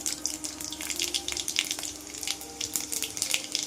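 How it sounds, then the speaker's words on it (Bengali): Panch phoron spices crackle and spit in hot oil in a wok, a close, continuous busy sizzle with scattered sharp pops. "এবার একটু পাঁচফোড়ন দিয়ে দিলাম।"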